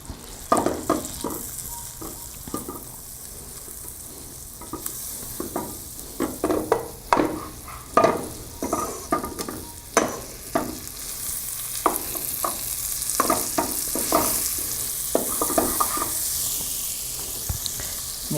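Finely chopped shallots fry in a pan, a steady sizzle broken by repeated stirring scrapes and clatters at an uneven rhythm, close and moderately loud with no talking.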